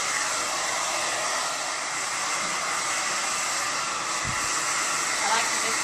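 A hair dryer blow-drying long layered hair in a salon, a loud steady whooshing drone that runs unbroken throughout at close range, with faint speech under it.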